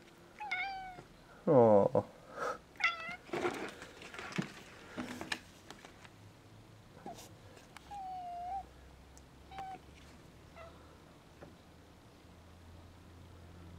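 A house cat meows repeatedly at a goldfinch, a few close, fairly loud calls early on, then quieter, sparser meows with gaps of near silence; a brief exclamation is heard once.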